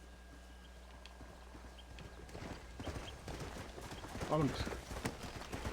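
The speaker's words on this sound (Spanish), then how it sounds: "Ese es otro caballo." A horse clip-clops at speed in Red Dead Redemption on PS4, its hooves drumming steadily under game ambience, with a short whinny near the end while someone talks briefly in Spanish.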